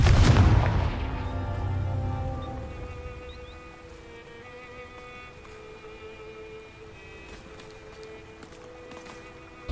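A Confringo explosion spell in a Harry Potter video game lands as one sharp, loud blast at the start, then rolls into a long fading rumble over faint tonal game sounds.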